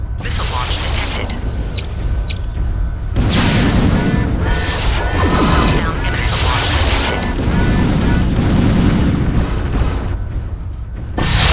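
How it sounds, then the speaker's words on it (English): Missile launches and explosions in MechWarrior 3, with dense, loud booms and rumbling blasts running continuously while a synthetic voice speaks over the combat. "Missile launch detected"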